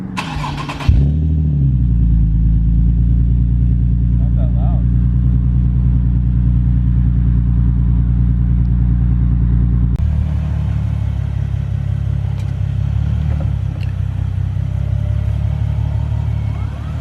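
Nissan 370Z fitted with a Fast Intentions aftermarket exhaust running at night, a loud, steady, deep exhaust drone close to the car, shifting in tone partway through.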